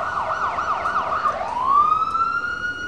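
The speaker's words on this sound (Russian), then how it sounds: "для горожан звучит тревожная сирена" A warning siren sounds for city residents during a civil emergency drill, a loud steady wailing tone that rises and holds, with a fainter second siren sweeping behind and traffic rumbling underneath.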